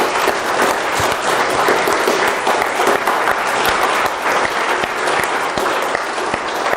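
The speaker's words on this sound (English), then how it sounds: "let's give them all a hand of applause" Loud, sustained applause from the audience at a live science censorship event, dense clapping that stays even and unbroken throughout.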